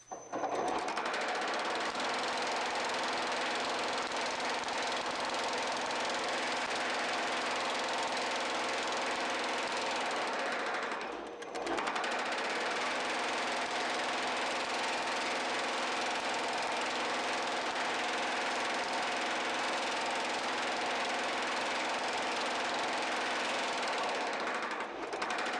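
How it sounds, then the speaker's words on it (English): A power hammer pounds a TIG-welded butt seam in steel sheet metal, a fast continuous mechanical hammering drone that runs steadily for a long stretch with one brief pause partway through, no voices. "we'll crush it down in the power hammer"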